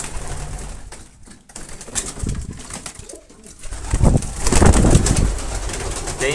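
Pigeons coo loudly and close by in soft, rolling phrases during bird ringing, with brief pauses and some low rustling between calls.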